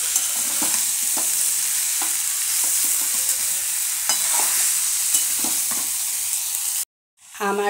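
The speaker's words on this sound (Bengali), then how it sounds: "ছোটো চুলায় মিডিয়াম ফ্লেমে এটা আমি দু মিনিট ভালো করে কষিয়ে নেব" Fig curry (dumurer tarkari) is stir-fried on a medium flame on a small stove: constant loud sizzling with regular scraping strokes of a spatula, cutting out abruptly near the end.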